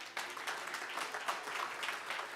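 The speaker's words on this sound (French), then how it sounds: "Mes sœurs, applaudissez les hommes là" A church congregation of women claps for the men, a brief steady patter of hands at moderate distance, fairly faint and continuous without speech.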